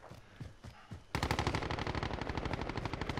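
Gunfire in a shooter game: a few scattered single shots, then a sudden loud, rapid automatic burst of evenly spaced bangs that continues steadily to the end, close and without talk.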